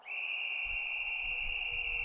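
Referee's whistle at an ice hockey game, one long sustained shrill blast lasting about two seconds, loud and close, with low rink rumble underneath.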